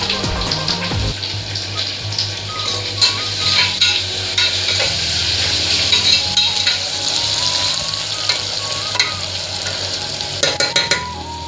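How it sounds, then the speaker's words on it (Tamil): Onion sautéing with a pinch of salt in a pan for mutton gravy: a loud, continuous crackling sizzle with frequent scraping stirs and spatters, close up and steady throughout, no voices. "அதனால ஆனியன் சீக்கிரமாக வதங்கிறதுக்கு நம்ம கொஞ்சம் லைட்டாக சால்ட் சேர்த்துக்கலாம் இந்த இடத்துல"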